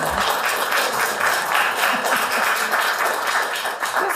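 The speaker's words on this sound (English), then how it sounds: "Come on, I deserve applause too." A small audience at a poetry and spoken word open mic claps steadily, a dense even patter of hands lasting a few seconds with no voices over it.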